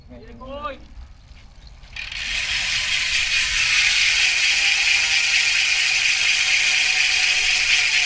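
After a brief voice, a rapid, continuous buzzing ratchet whir starts up and holds steady, the fast clicking of a Java Siluro 2 gravel bike's hub spinning freely up close.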